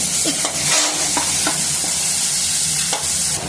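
Ginger garlic paste stirred and frying in a pan for a Guntur-style prawn fry, a steady loud sizzle with scraping stir strokes throughout, no voices.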